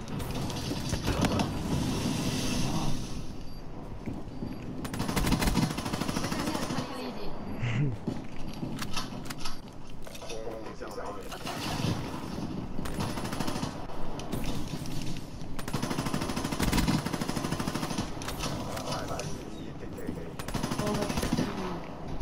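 Gunfire from Call of Duty Black Ops 3 on PS4 rattles in dense automatic bursts throughout, loud and close, with a player talking over the shooting.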